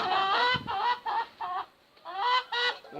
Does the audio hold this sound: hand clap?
no